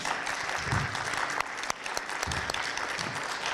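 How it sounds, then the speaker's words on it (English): An audience claps for a guest at a water budget presentation. The applause is dense and sustained, with a few sharper claps standing out, and a low rumble of room noise underneath. "I'd like for you to join me in giving her applause"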